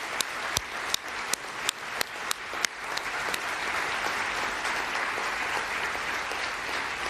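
An audience at a human rights defender award ceremony claps: a few sharp, isolated claps come first, then they swell into sustained, dense applause that carries evenly to the end.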